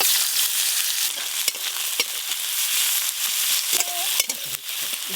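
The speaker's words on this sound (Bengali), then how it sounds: "মাছ রান্নার জন্য প্রথমে দেব পেঁয়াজ কুচি।" Chopped onion sizzles in hot oil for a fish curry, a steady close frying hiss broken by scattered clicks and scrapes of stirring, with no talking.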